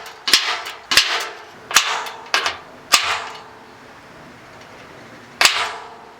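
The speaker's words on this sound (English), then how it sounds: "Now that I center punched it in," Six sharp metallic strikes of a center punch on a stainless steel draft door, crisp and close, the first five in a quick uneven run and the last after a long pause.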